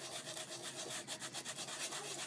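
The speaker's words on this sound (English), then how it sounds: "I decided to start sanding it with sandpaper, and it works really good." Rapid back-and-forth scratchy rubbing of sandpaper on cork, close and steady with a quick rhythm.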